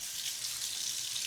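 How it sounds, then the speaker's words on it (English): Water drops flicked onto a hot stainless steel pan hiss and sizzle in a soft, steady crackle. The high-pitched fizz is close and fairly quiet and lasts the whole moment without pause. "when you flick water on it, the little balls of water like flick around"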